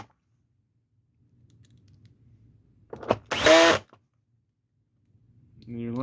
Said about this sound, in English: you're just going to reinsert your screws back in the holes